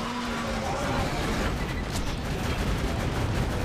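A powerhouse pistol firing in Borderlands 2 during a boss fight, with dense, loud shots and booms over a constant rumble and no talking.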